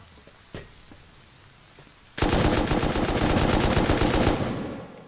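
Heavy M2 machine gun firing explosive rounds in the survival game Rust, a loud rapid sustained burst of shots after a quiet start with one faint thump, tailing off at the end.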